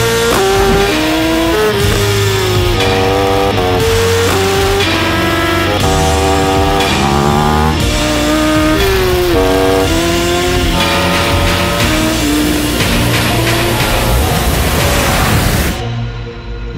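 A superbike engine revs hard on a race track, a loud, continuous high-pitched roar with rising and falling pitch that runs nearly unbroken before cutting off abruptly at the end.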